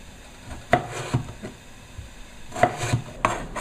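A knife chops vegetables on a cutting board in sharp, separate strokes with uneven gaps, close and clear with no talk, while veggie pot pie fillings are prepped.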